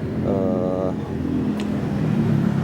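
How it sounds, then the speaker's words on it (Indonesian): A noisy car engine runs steadily during a pre-departure vehicle inspection. The rough low rumble stays constant and close, with a voice talking over it near the start. "karena kita kedapatan mobil yang berisik gitu ya"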